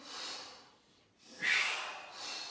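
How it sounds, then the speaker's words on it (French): Slow breaths in and out during a postural exercise, a soft airy inhale, a pause, then a stronger, slightly snorting exhale close to the microphone. "On inspire en statique, et on expire."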